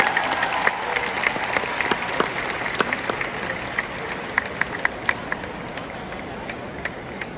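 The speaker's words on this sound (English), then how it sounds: "Big round of applause for them." An audience at a live event in Delhi claps steadily after a classical Bharatanatyam dance offering. The applause is sustained and moderately distant, then thins gradually toward the end.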